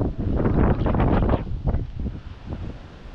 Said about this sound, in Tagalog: Hindi rin tayo makakagawa, malakas